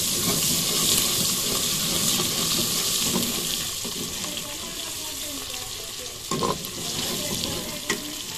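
Garlic and ginger paste frying in a pan, a steady close sizzle and hiss with occasional stirring clatters and small knocks.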